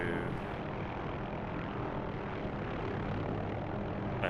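A helicopter in the DCS flight simulator game drones steadily throughout, a continuous engine and rotor roar with no voices over it.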